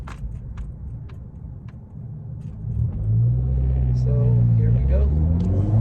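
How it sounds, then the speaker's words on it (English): Turbocharged car driven at night in cold weather, its engine rumbling low and then swelling into a louder, sustained drone as it pulls away, with someone talking briefly over it. "it's going to be a lot louder due to the colder weather"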